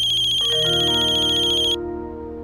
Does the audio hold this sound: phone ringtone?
yes